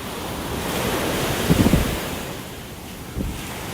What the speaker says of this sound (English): A little bit of a breeze now and then.